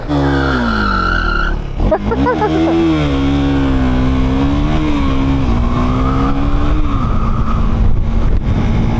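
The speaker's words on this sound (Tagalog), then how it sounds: "Oras na para sa burnout." KTM Duke 390 motorcycle in supermoto mode with rear ABS and traction control off, doing a burnout: loud sustained engine revving with pitch swells and a rising surge, tire squeal running continuously underneath.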